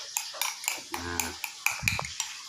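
Honey and aloe vera are stirred in a container, a spoon clinking and scraping in quick repeated taps against the sides, close and fairly clear, with no talk.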